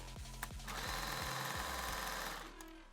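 A sewing machine stitches an African print fabric apron, running in a quick mechanical chatter that speeds up into a steady whir and then slows to a stop, heard close with no talking.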